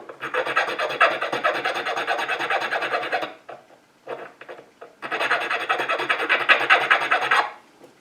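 A hand file rasps back and forth across a metal part from a 1974 Suzuki TC 125 motorcycle being rebuilt, two long bursts of steady, loud scraping strokes split by a short pause, close up with no talk.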